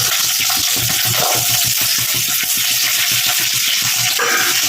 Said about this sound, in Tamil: கடுகு நல்லா பொரிஞ்சதுக்கப்புறம் நல்லா சின்ன வெங்காயம், பூண்டு, கருவேப்பிலை.